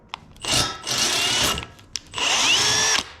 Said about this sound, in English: I'm gonna use the drill to get it out this time.